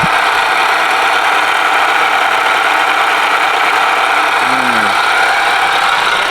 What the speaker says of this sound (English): As near as that supercharger bearing doesn't sound too good.